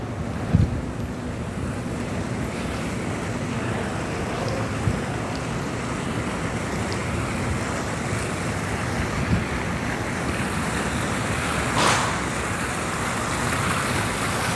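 An outdoor water fountain at the sky park of SM Seaside mall in Cebu City gives a continuous, even rush of splashing water mixed with wind buffeting, with a few faint knocks and no talking.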